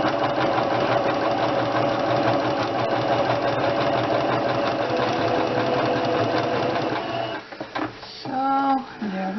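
A sewing machine stitches backward across a small doll dress with a fast, steady mechanical whirr close by, stopping near the end as a voice briefly speaks.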